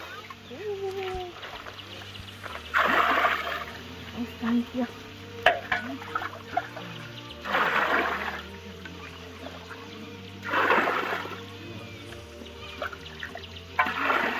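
Hot salt water at a village salt mining site is scooped and poured, making bursts of splashing and trickling that come and go close by, with someone talking between them.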